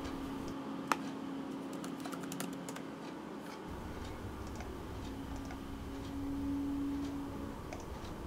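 Typing on a Mac keyboard while entering new user account details, with sparse soft key clicks at close range over a low steady hum and no speech.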